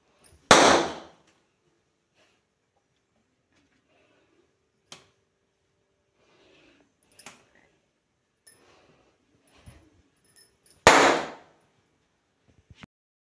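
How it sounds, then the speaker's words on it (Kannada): Two sharp, loud Diwali firecracker bursts, one near the start and one near the end, with a few faint pops and clicks scattered between in otherwise quiet air. "ಎಂಥ ಪಟಾಕಿ"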